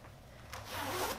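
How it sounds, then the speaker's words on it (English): A zipper on the front of an Adidas floral bomber jacket being pulled up, a short rising zip that grows louder toward the end of a brief moment, alone with no talk. "the front actually zips up"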